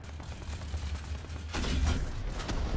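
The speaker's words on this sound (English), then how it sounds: "Oh, he took out my barrel with his 50 cal." Heavy machine gun fire in The Dead King video game, a .50-cal burst that swells into a loud, dense rattle of shots midway through and continues over the battle noise.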